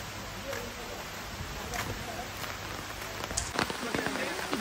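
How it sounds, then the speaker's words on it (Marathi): Heavy rain pours in Matheran, a dense steady hiss of drops nearby with a few louder splashes and patters building toward the end. "खूप जास्त छान असा पाऊस पडतोय बघा"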